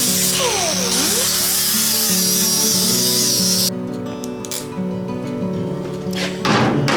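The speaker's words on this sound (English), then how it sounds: "grind the edges of this thing right quick" A power grinder works the edges of a steel running board bracket for a 1948 GMC truck, a loud steady whine that drops away partway through, leaving quieter shop noise.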